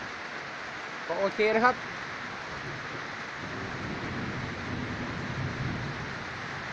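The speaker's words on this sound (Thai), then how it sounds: "ตอนนี้ฝนตก" Rain falls outdoors beside a cement-ring charcoal kiln, a steady hissing patter with wind rumble, while someone speaks briefly near the start.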